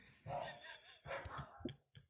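A dog barks in a few short bursts, moderately close, with brief pauses between them and a final small yip.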